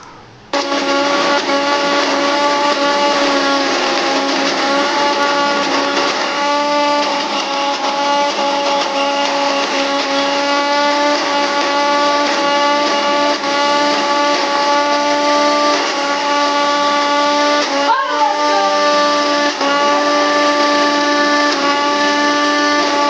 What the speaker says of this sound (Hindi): इसमें मिर्ची सारे डाल देते हैं, सारे पीस देंगे।